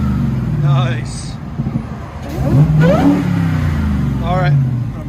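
A 2017 Dodge Charger Hellcat with a supercharged 6.2L Hemi V8 and dual exhaust revs loudly nearby in short rising bursts, with a deep rumble between them and voices talking over it.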